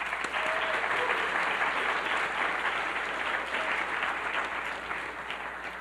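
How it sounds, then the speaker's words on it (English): A room full of people applauding for volunteers at an evening artist talk on a video game, dense, even clapping that holds steady and eases off slightly near the end. "so a round of applause for our volunteers."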